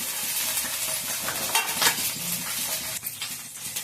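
Green chillies frying in oil in a pan for cucumber pachadi, with a steady sizzle and the clink of a utensil against the pan, close by and with no talking.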